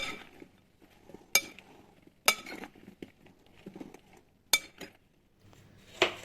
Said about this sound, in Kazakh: крахмалымызды баклажанымызға сеуіп, жақсылап араластырып, 15 минуттай уақытқа қойып қоямыз